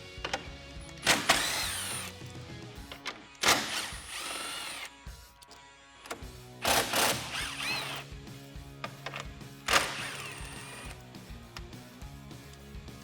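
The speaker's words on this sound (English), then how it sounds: "Then we can pull out our 10mm socket. We're gonna remove these 4 bolts." A 10mm socket on a power driver spins out the four grille bolts of a 2015-2017 Ford F150 in several short, close whirring bursts separated by brief pauses, with no talking.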